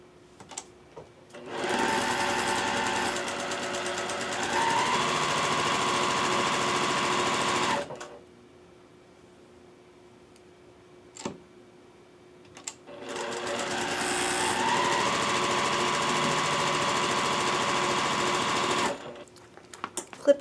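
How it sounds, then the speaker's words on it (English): Quilt block pieces are sewn on a sewing machine in two long, steady runs of close, loud stitching, separated by a quiet pause with a few faint clicks. "And then you will begin sewing where your triangle tip overlaps."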